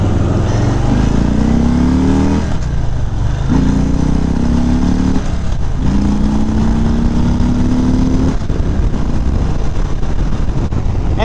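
A motorcycle accelerates hard while being ridden: three loud, close engine runs that each climb in pitch, broken by brief dips at the gear changes, with steady road and wind roar underneath and no talking.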